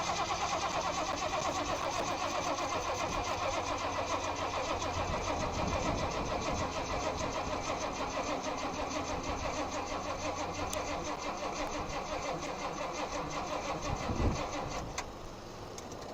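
Rat rod car engine cranking and starting with the choke unhooked: a loud, rhythmic cranking churn that carries on through most of the stretch, then a brief surge as it catches and fades back near the end.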